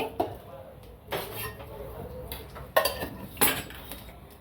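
A spoon clinks and scrapes against a pan while ghee goes in for a mushroom masala, several sharp metallic taps spaced across a quiet kitchen background, with a voice speaking faintly.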